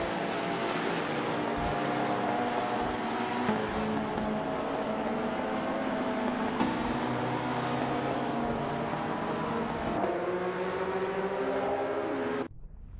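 Lola T290 race cars in a racing game at Magione Short, a continuous loud, close engine whine with shifting pitch and gear changes, cutting off abruptly near the end, with no talking.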